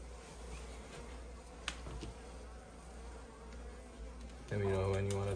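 Honeybees in a massive beehive at Ewa Beach hum and buzz continuously at a faint, steady level, with a stronger, closer drone swelling in near the end.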